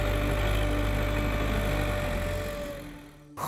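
Tractor engine running, a steady close low rumble with a tonal hum that fades and drops off near the end before a brief bump of noise.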